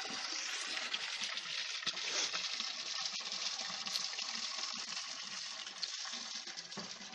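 Steady rushing flow of spring water, continuous and fairly close, with no voices over it.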